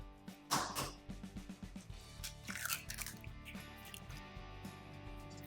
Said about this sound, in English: Mix well till the egg is coated to all the pieces